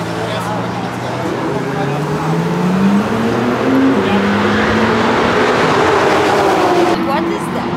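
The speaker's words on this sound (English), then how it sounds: "I think it's a SL 65 Black Series, probably" A Mercedes SL 65 Black Series passes at a track day, its engine note rising and sweeping through as it goes by amid other cars, loud and steady over the whole stretch, with voices faintly present.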